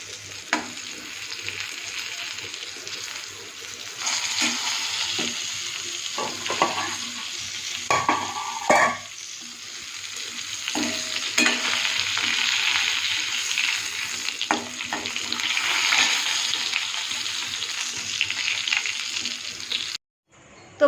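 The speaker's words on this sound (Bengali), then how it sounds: "আর পটলগুলো ভাজতে শুরু করে দেবো এখনই" Pointed gourd (potol) frying in oil in a pan gives a steady, close sizzle throughout, with stirring scrapes and clinks mixed in. No one speaks.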